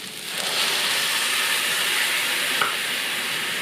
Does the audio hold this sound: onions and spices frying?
yes